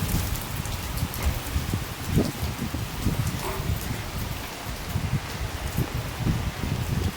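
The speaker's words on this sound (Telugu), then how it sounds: "ఇక్కడ చాలా పెద్ద వర్షం పడిందండి, ఉరుములు మెరుపులతో అనమాట" Heavy rain pours outside a village house during a thunderstorm, a dense steady wash of drops hitting surfaces close by, with no voices over it.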